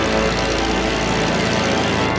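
A loud, droning airplane engine roars steadily as the plane approaches in an animated film, a propeller hum dominating throughout as it stays close.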